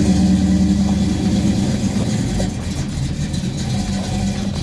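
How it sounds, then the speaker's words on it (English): A 1972 Dodge Charger hot rod with a Mopar V8 idles close by, giving a loud, steady low rumble with a slight lope. The engine runs alone with no talking over it. "There's nothing like the sound of a Mopar."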